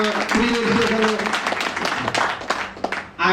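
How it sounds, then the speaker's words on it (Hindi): An audience at a business plan seminar breaks into applause, a dense burst of clapping rising and fading over a few seconds while someone talks over it. "तो एक बार जोरदार ताली होनी चाहिए"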